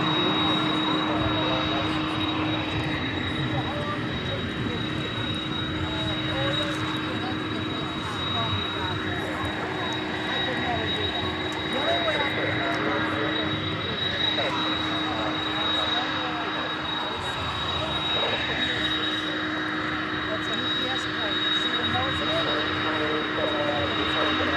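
Jet airliner at DFW airport at night, a continuous engine whine with steady high and mid tones over a low rumble, moderately loud and unchanging, with someone talking over it throughout.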